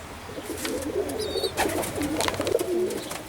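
Oriental Roller pigeons in a loft give soft, low, rolling coos, several overlapping calls close by, with a brief faint chirp in the background.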